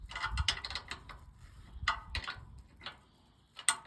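A wrench works at a stuck bolt, giving quiet, irregular bursts of ratcheting clicks with short pauses between the strokes.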